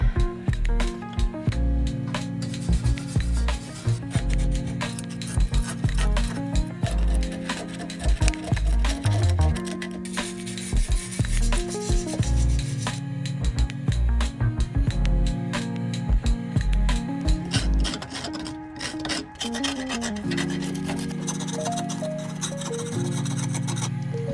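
A VW T5 campervan's rusty bodywork is scrubbed by hand: steady rasping, rubbing strokes repeat close up for the whole stretch, with no talking.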